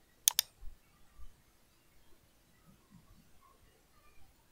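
Two quick, crisp clicks of a computer mouse close by, then near silence with only faint room noise.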